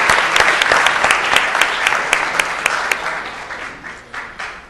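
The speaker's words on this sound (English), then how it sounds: "Please join me real quick in giving them a round of applause for their time and energy." Attendees at a city council and housing authority meeting give a round of applause, loud and fairly close clapping with some sharp individual claps standing out, slowly thinning toward the end.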